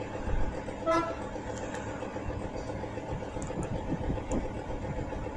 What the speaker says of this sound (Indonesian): Mantap, jarang-jarang lewat sini kereta Bhatara Krishna.